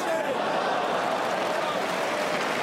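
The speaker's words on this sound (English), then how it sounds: "Crowd appreciates the effort by Ishida to get out of that." An arena crowd at a New Year's Eve 2007 MMA event, Gilbert Melendez vs Mitsuhiro Ishida, gives off a steady, broad murmur and roar of reaction for a few seconds, loud and continuous with no single standout shout.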